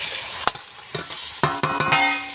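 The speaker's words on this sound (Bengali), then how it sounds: "এই কড়াইতে দিয়ে দেবো চিংড়ি মাছ ভাজা" Prawns tossed into a hot karahi with spiced curry over a wood-fired village clay stove, giving close sizzling frying and several sharp scraping, clattering stirs of a spatula against the pan.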